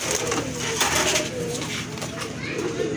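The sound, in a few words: Rajgolla pigeon cooing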